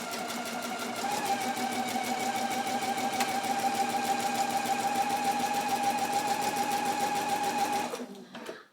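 A sewing machine runs long tacking stitches on a spring dress, with the edge of the presser foot guiding the first row. The motor hums in one steady, close, continuous run for several seconds, then stops.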